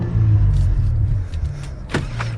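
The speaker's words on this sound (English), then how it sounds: "Get a few exhaust revs." A 2022 Cadillac CT4-V Blackwing engine idles with a low steady rumble, then a brief sharp exhaust rev flares up near the end before settling back to idle.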